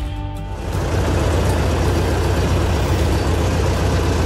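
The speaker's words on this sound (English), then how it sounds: "The McCormick Deering 1020 was an agricultural tractor produced by International Harvester between 1923 and 1939" A McCormick Deering 1020, an antique International Harvester agricultural tractor, runs with a loud, close, steady low-pitched engine rumble that holds constant throughout, with no talking.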